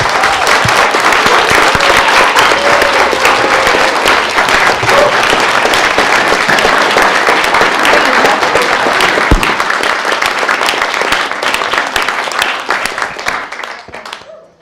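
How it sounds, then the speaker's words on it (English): Sustained applause from a large audience at a mock trial event, loud and dense for about twelve seconds before fading out at the end, with no talk over it. "I think we should give a rousing applause to everybody."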